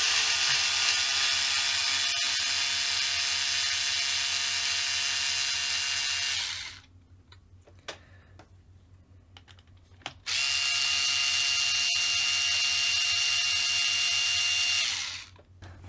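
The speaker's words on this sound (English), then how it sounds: "I always forget that I've got the electric driver" Electric screwdriver backing screws out of an Arrma Kraton EXB 6S RC car: two loud, close, steady whirring runs of about six seconds each, separated by a quiet pause with small clicks.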